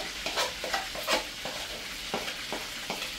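Seasoning boils in a pot over a fire, with steady bubbling hiss and a series of scraping stirs at irregular intervals, close and fairly loud, no voices.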